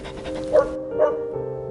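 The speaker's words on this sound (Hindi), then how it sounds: "भौ भौ करके भौंकने लगा" A dog lets out two short, sharp barks about half a second apart, close by, followed by quiet panting-like noise.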